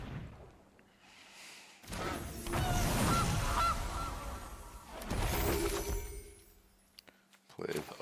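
Goose honks from a Magic: The Gathering Arena card game sound effect, brief honking calls sounding mid-clip amid busy game effects and a voice talking over them.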